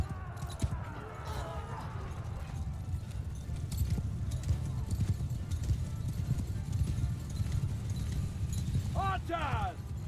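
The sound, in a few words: cavalry horses galloping in video game Mount & Blade II: Bannerlord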